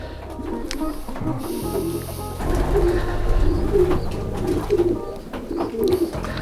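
A small racing pigeon coos in soft, repeated rolling calls close by, with a faint clicking and a low background rumble.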